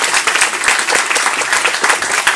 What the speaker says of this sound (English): Yeah, that's an applause